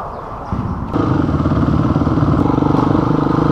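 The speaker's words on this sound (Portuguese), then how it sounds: "Bastante moto de enduro hoje." Enduro motorcycles ride on a rally route in Rio Grande do Norte, Brazil, their engines starting as a quieter rumble and then rising into a loud, steady, close-up clattering roar that carries on to the end.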